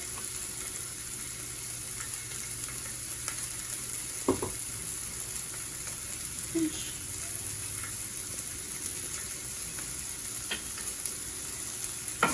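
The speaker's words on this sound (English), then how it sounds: "And I will saute them for about a minute or so." Vegetables with added salt sauté in a pan, giving a steady, fairly quiet sizzle throughout with a few brief stirring clatters and scrapes.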